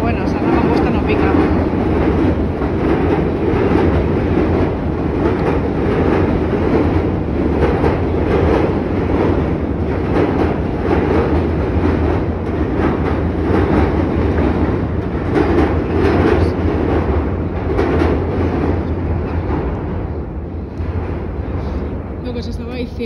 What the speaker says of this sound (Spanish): que pasa el metro y el ruido es bastante intenso